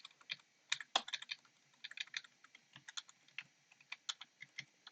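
Close, rapid clicking of computer keyboard keys, mainly K and the WASD movement keys, pressed while playing a homemade Mario-style game written in assembly. Taps arrive in quick, irregular bursts and single presses, fairly quiet, with no voices.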